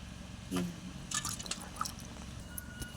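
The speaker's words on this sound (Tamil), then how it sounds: "இப்போ ரெண்டாவது மீனை கழுவ போகிறோம் இதை நல்லா கழுவி எடுத்துக்குவோம்" A whole fish is rinsed by hand in water, producing soft wet squishes, splashes and scattered drips up close at low volume, with no speech.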